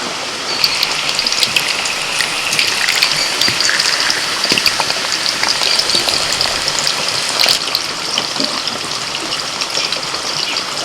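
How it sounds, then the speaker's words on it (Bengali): Steady, loud sizzling crackle of potatoes frying in hot oil, continuous throughout with no voices. "তেল গরম হয়ে গেছে এবারে আলুগুলোকে আমি তেলের মধ্যে ছেড়ে দিচ্ছি"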